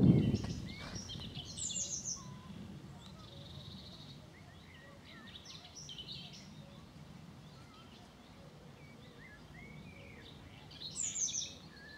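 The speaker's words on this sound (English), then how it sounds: "Cuckoo, listen." A cuckoo calls from a distance in countryside near Sheringham Park, among other birdsong and chirps, faint against quiet outdoor ambience, with a brief louder sound at the start.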